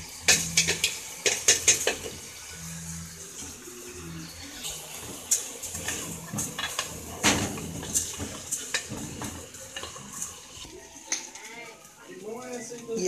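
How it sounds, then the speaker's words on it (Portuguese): Washed rice goes into a pressure cooker pot for rice with lentils and sausage, with scattered clinks and scrapes of utensils on metal, soft pouring and stirring sounds, and brief talk partway through. "agora eu vou colocar o arroz lavado"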